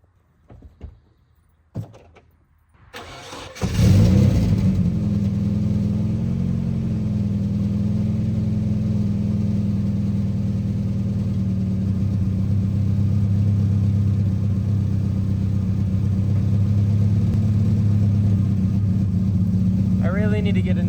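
Volvo 240 engine cranks and catches after an oil change, then settles into a steady, loud idle with a rough, leaking-exhaust rumble; faint handling noises come before the start.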